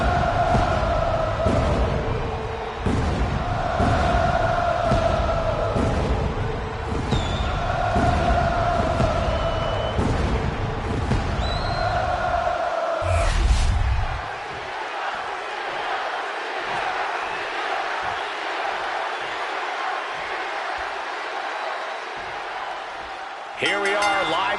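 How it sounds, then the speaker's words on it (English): A WWE 2K25 arena crowd roars in a steady, dense wash of cheering, loud and sustained, while a commentator's voice talks over it before the noise drops and settles into a softer, rumbling murmur. "The WWE Universe is deafening"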